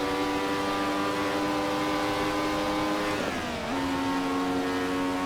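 Nissan NP35 race car in Assetto Corsa shifting up into 6th gear, a loud sustained engine drone whose pitch drops sharply during a brief, awkward shift, then settles and holds steady, no talking.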